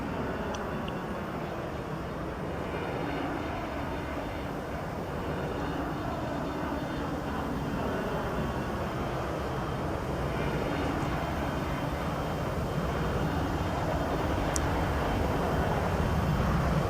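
Engines of a Boeing 737 Classic in a flight simulator, a steady broadband roar that holds unchanged and fairly loud, with no voices over it.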